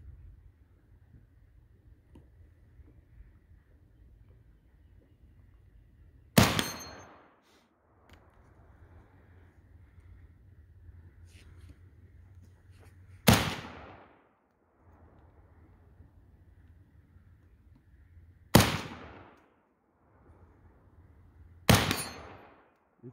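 Four loud, sharp rifle shots from a 1993 Norinco SKS Sporter fired at a target about 60 yards away outdoors, spaced several seconds apart, each followed by a short decaying echo over quiet background.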